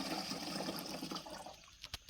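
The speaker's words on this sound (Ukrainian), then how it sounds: "Далі доливаємо трошки води" Water is topped up into a garden sprayer while mixing a rose treatment, making a steady rushing pour that fades into a few brief splashes at the end, with no talk.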